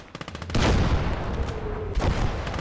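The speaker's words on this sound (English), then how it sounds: "And thankfully, that artillery misses." Battle sounds from a WWII real-time strategy game set on the Eastern Front, with rapid small-arms and machine-gun bursts followed by a heavy boom around the midpoint and another blast near the end, all loud and continuous.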